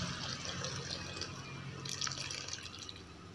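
Boiled fermented fish sauce (nam pla ra) poured into a dish, a steady liquid trickle and splash with small drips, close and fairly quiet, no talking.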